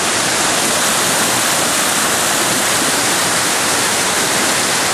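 Creek water rushes in a dense, steady wash of broadband noise that fills the whole stretch, close and loud, with no talk over it.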